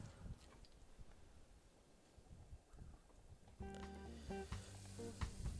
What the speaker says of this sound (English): now it's time to put the steak on the grill